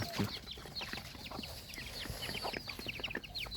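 Hens and small white chicks cluck and peep around a farmyard, faint and scattered, with quick high chirps over low soft clucks.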